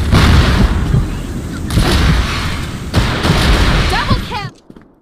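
Grenade explosions in the video game CrossFire on the Compound map: three heavy, close booms follow one another, each rumbling and decaying, and a brief game voice comes near the end before quiet.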